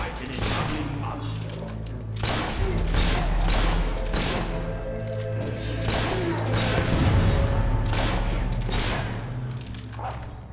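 Gunfire in the video game Fable 3 rings out in rapid clustered bursts of shots and heavy thuds over a low droning game soundtrack, loud and close, with scattered voice sounds mixed in.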